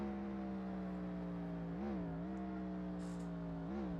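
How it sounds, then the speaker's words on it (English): A struggling Formula-style race car in a racing video game, an engine fault making it limp toward the pits, drones steadily with its engine note dipping and rising in brief shifts, loud and continuous throughout. "You hear him downshifting."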